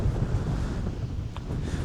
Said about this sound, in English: The waves out here are rough.